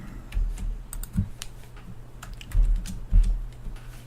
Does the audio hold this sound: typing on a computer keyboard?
yes